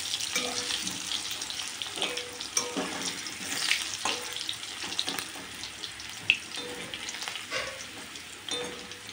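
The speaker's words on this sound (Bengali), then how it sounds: "এই তো আলুগুলো একটু মাছে ভেজে নিই" Potato pieces fry in the oil left over from frying fish, giving a dense, continuous hiss with crackles and occasional sharp pops, heard close and without speech.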